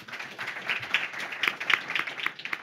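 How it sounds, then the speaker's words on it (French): A live audience applauds in public at a regional roundtable on energy renovation aid in Nantes, with a steady patter of many hands clapping close by, no talk. "vous pouvez vous applaudir"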